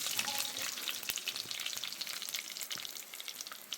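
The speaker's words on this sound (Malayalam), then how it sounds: "അതിലേക്ക് ഞാൻ ഉലുവയും കൂടെ ചേർത്ത് കൊടുക്കുകയാണ്" Fenugreek seeds frying in hot oil for a red snapper fish curry, giving a steady close sizzle with crackling pops throughout and no talk.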